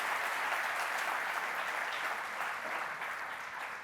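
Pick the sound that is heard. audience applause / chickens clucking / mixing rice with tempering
audience applause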